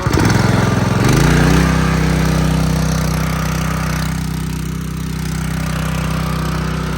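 A 212cc gasoline engine on a 3-inch semi-trash water pump starts up and settles into a loud, steady close-up running drone with no talking.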